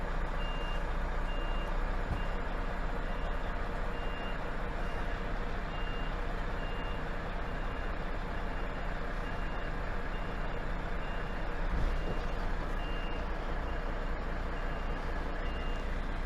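HGV lorry reversing a trailer, its reversing alarm beeping steadily over the loud, constant rumble of the idling truck engine, with a brief air-brake hiss near the end and no talking.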